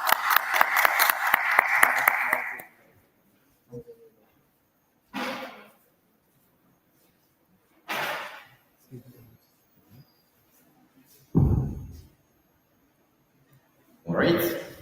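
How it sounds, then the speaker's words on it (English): Applause from a conference audience at an open source event in Kanpur, India, loud and dense for about two and a half seconds, then fading, followed by sparse quiet sounds and short bursts of talk. "Please join me in giving him a warm round of applause"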